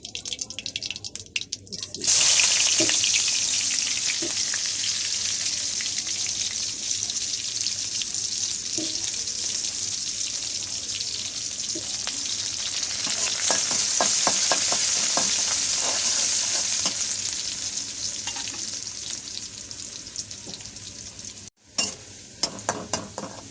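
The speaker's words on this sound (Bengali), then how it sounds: "ডাল বাগার পেঁয়াজ রসুন" Onion and garlic fry in oil in a kadai for a dal tempering, a loud continuous sizzle with frequent stirring scrapes and clicks that swells midway and cuts off briefly near the end.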